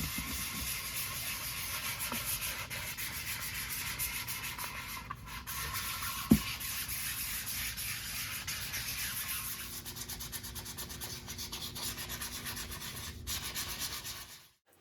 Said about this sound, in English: switch over to 220 grit sandpaper to begin the smoothing process.